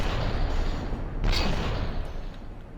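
Cannon fire in the game From the Depths, a dense continuous rumble of booming shots with one brighter blast in the middle, loud and close, no talking over it.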